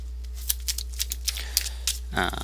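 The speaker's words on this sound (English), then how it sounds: "This deck I'm shuffling right now is my Mewgar deck" A deck of Pokemon trading cards is shuffled close by in quick repeated riffles and snaps, ending with a brief burst of handling noise over a low steady hum.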